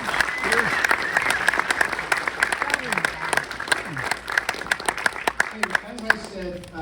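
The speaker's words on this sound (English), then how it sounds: "Applaud this woman, please." A memorial and celebration audience applauds a DVD producer, dense sustained clapping with sharp individual claps poking through near the end, and faint voices mixed in.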